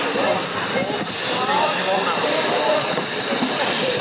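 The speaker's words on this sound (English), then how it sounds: "We got on the train." Steady broadband hiss from a preserved steam train, heard from inside a carriage, continuous and fairly loud throughout with faint voices murmuring underneath.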